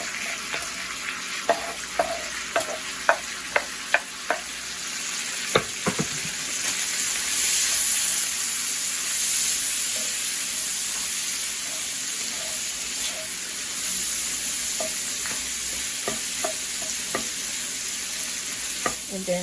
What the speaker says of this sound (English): I'm gonna go ahead and add both the onions and the tomatoes. That way it can just go ahead and cook a little bit with the bacon